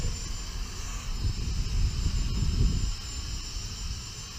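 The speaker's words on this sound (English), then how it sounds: "we'll start the quad, and we'll take it off in GPS mode" A Hubsan 502S GPS quadcopter drone lifts off in wind with a buzzing motor whir that swells over a breezy, rumbling background and then eases slightly.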